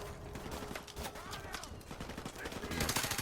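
Rapid bursts of gunfire from Modern Warfare Remastered, a dense crackle of overlapping shots that grows louder toward the end, with a voice faintly in the mix.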